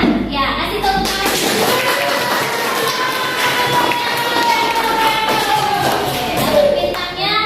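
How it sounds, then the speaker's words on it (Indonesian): A class of students claps and cheers together in a classroom, a loud, sustained burst of applause with mixed voices throughout. "Ya, kasih tepuk tangan."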